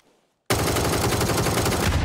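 Gunfire in the battle-royale game PUBG erupts after a brief quiet. It becomes a loud, continuous automatic burst of rapid shots that runs unbroken to the end.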